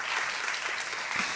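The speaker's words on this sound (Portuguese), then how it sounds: "Palmas para Ingrid" A television studio audience bursts into steady, dense applause that holds at an even level throughout, with no voices rising above it.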